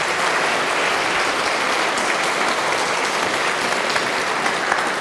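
Audience applause at a premiere in the Silesian Museum in Katowice, a sustained, dense burst of clapping from a full hall that holds evenly loud for several seconds with no speech.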